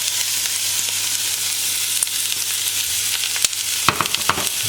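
Red onions frying in a hot pan for red onion confit, a loud steady hiss of sizzling with a few sharp utensil knocks and stirring scrapes toward the end.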